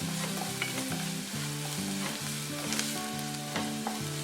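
A small onion sautés in a pan for a fresh cashew curry, a steady sizzle with repeated light stirring scrapes and clicks, over a low tonal hum, without voices.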